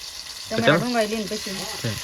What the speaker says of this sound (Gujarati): ડુંગળી તેલમાં તળાઈ જાય છે